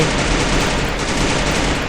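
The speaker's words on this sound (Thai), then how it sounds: "นั่นคือเสียงปืนโคตรลั่นครับทุกคน" Dense, continuous rapid gunfire roars without pause, loud and close, like an automatic weapon firing in the game Free Fire.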